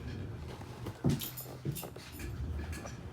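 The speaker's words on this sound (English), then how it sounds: "My dog's getting up." A dog gets up and shifts about indoors, with soft patter and a brief whimper close by against a steady low background hum; no speech.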